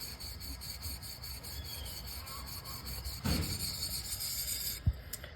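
A Stanley hand plane blade is rubbed back and forth on a sharpening surface, making soft, steady rasping strokes close by, with a slightly louder pass and a small knock near the end.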